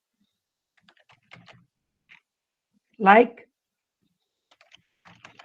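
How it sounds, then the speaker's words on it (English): Soft, scattered keystrokes on a computer keyboard while rough notes are typed, with quiet clicks before and after a brief spoken word. "Just I am typing rough."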